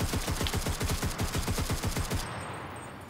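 Rapid automatic gunfire from a weapon being emptied in the online shooter game CRSED, a loud, fast, evenly spaced burst of shots lasting about two seconds before cutting off to quiet.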